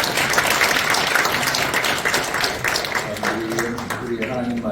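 A church congregation at a prayer meeting applauds their pastor, dense and loud continuous clapping that fills the room, slightly easing near the end as a voice starts speaking over it.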